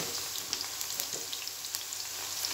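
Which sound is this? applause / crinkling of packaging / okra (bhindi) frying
okra (bhindi) frying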